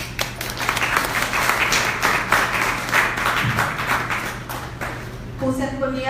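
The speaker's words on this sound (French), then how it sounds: "Applaudissez-vous s'il vous plaît." Steady crowd applause at a photography festival in Haiti, many hands clapping together, sustained for several seconds before a voice begins speaking near the end.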